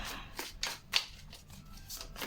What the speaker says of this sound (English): I'm gonna live shuffle from the Mystical Dream Tarot